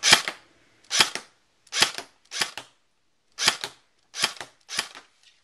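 A Cyma Thompson 1928 airsoft gun with drum magazine fires in sharp, close, loud single snapping shots, about eight spaced roughly half a second apart with brief silences between, no talk over them.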